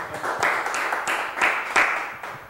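Studio audience clapping on a Brazilian TV variety show, a dense patter of hands with several louder swells over about two and a half seconds, fairly close and steady.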